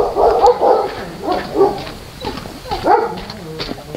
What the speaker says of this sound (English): Here's the little puppy.